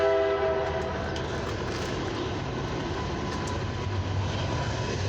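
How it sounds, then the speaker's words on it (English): A train rumbles past close by, a steady, loud roar of rail noise with a sustained horn tone at the start, holding for several seconds with no voices. "Train."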